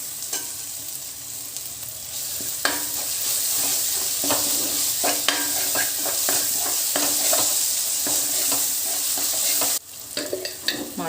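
Masala paste and tomato pieces fry for a mutton curry with a loud, continuous sizzle, while a spoon scrapes and stirs in scattered knocks; the frying briefly drops out near the end before resuming.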